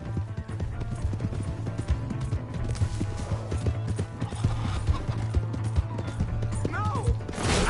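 Fast, steady clip-clop of horse hooves at a gallop in a video game, mixed with mechanical clatter and a short whinny near the end.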